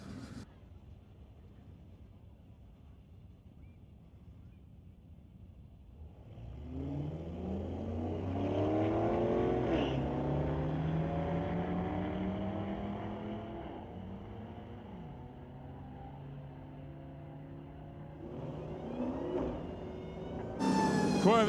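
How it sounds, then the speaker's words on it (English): A Mustang and a Corvette drag race down a strip at Mission Raceway Park, with engines rising loudly from a quiet start into a long accelerating roar, fading and then building again under a public-address announcer's voice. "Another Mustang, another Corvette, as we continue to battle our way through the fourth rotation of domestic."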